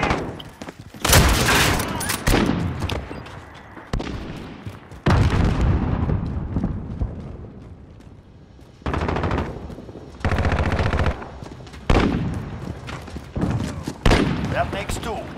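Bursts of automatic gunfire and heavy booming blasts in a Call of Duty: Modern Warfare multiplayer match, arriving in loud, close, irregular volleys separated by short lulls, with in-game voices calling out between them.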